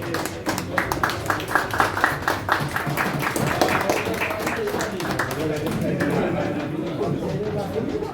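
Audience applause at a London prize distribution ceremony, a steady wash of clapping from many hands lasting throughout, with crowd chatter and voices mixed in underneath.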